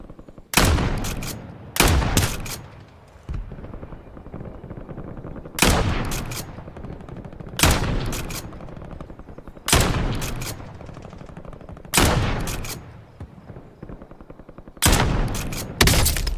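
Video game gunfire in a battle-royale match, heard as repeated loud bursts of rapid shots spaced a second or two apart across the stretch, alone with no talk.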